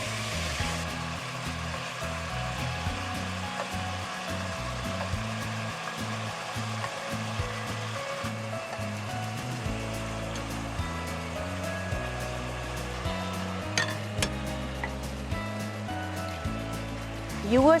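Pork belly and shrimp frying in a pan for a caramelized stir fry, a steady sizzle with occasional stirring scrapes near the end, while a low musical bed plays underneath.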